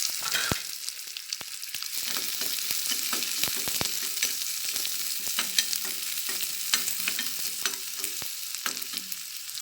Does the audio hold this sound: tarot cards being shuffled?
no